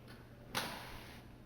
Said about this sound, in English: And now we get the little knock at the door